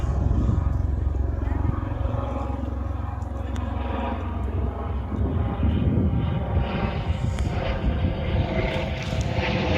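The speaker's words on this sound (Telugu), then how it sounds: "హెలికాప్టర్" A helicopter flies overhead in Olden, Norway, its steady engine and rotor rumble filling the scene throughout, loud and continuous, with people talking over it.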